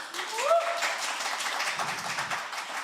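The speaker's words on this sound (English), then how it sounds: "let's have another big round of applause for our first performer" Brief round of applause from a small audience at a live radio show for a performer, soft clapping that swells and fades under a voice speaking.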